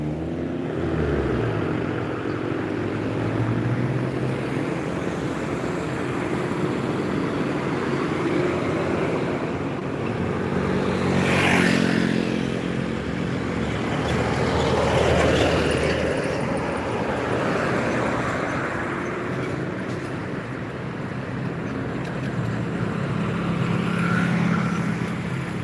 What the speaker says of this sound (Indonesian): Kendaraan di Mone yang ramai kendaraan pribadi.